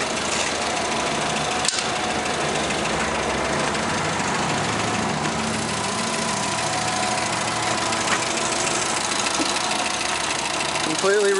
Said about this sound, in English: Completely rebuilt Mazda engine.